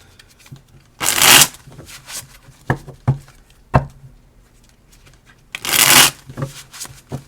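Two bursts of playing cards being riffled, each a dense rush of about half a second, separated by softer taps and knocks of the deck on a table, close and clear with no talk.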